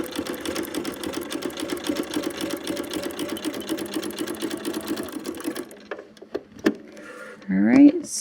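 A sewing machine stitches fabric with a fast, steady mechanical whir-and-tap rhythm for several seconds, then stops. A few clicks follow and a voice speaks briefly near the end.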